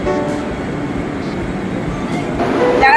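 A Vande Bharat train arriving at a crowded Trivandrum Central railway station, a loud, steady rumble of rolling wheels and carriages that swells slightly toward the end.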